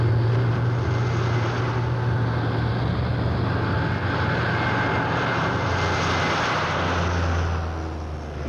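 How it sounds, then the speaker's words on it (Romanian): A fixed-wing airplane landing, a steady loud roar of aircraft engines with a low droning hum that holds for several seconds and eases slightly at the end. "avionul de ora 17 a aterizat"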